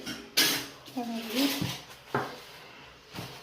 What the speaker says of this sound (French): Une boîte de thon d'huile de tournesol. On la met dans le saladier.